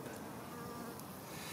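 Honey bees hum steadily around an open hive during a varroa treatment outside the brood period, a dense, continuous buzz at moderate level with no talking.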